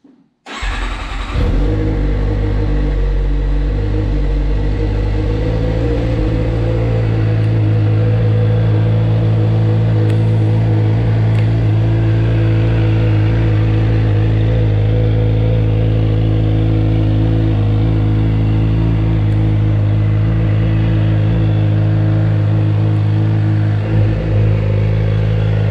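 Suzuki GSX-R 750 sportbike, a restored salvage machine with a legal exhaust, fires up and runs loud and close, idling with a steady deep hum and throttle blips throughout, no talking.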